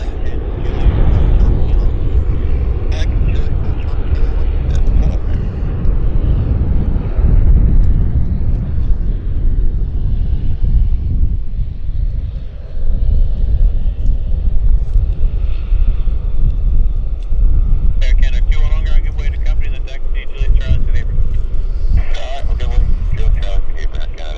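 Flair flight 809 from Calgary taxiing or landing at Vancouver airport, a loud continuous low engine roar with wind buffeting, a voice talking over it.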